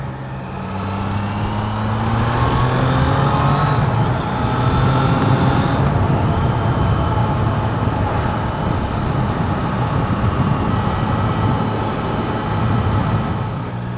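A Triumph Trident 660 motorcycle engine while riding, with a close, loud, smooth tone that swells and shifts pitch as it pulls along, over steady road noise and with no voices.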